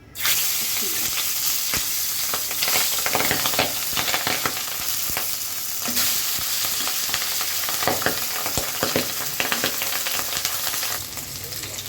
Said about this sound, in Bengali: প্রথমে মাছটা ফ্রাই করে নেব